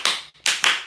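Church radio broadcast audience clapping in a few short bursts, with a brief gap between bursts and no talk over it.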